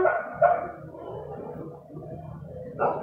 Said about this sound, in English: whoa, where's the dog at?